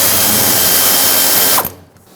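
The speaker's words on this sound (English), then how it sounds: "You can use an 8mm socket and loosen them all up." A ratchet fitted with an 8mm socket loosens hose clamps on a 1999-2007 Ford F-350 7.3L Powerstroke. A loud, continuous close-up clicking runs for about a second and a half and then stops abruptly.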